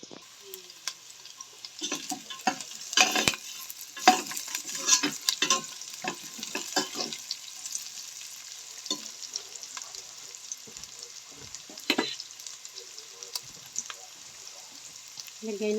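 Pork crackling and sizzling in a pan with reduced oil for a Filipino ginataang sitaw at kalabasa, steady frying hiss with occasional stirring scrapes, moderately close and with no talking.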